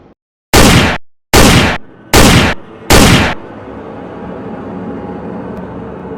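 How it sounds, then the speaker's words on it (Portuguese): Four sharp, loud pistol gunshots in quick succession, evenly spaced, followed by a lingering echo and low background noise. "Foram 4 tiros certeiros"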